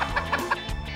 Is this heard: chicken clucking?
yes